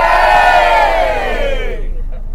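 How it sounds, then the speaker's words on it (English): A loud group cheer from pilgrims aboard a coach, one sustained shout of many voices that rises, holds and fades out over about two seconds. "here's a cheer from the pilgrims."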